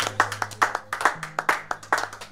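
A congregation at a morning prayer service claps to acclaim the Lord: steady, rhythmic hand claps at a brisk tempo, fairly close and clear, lasting the whole short stretch.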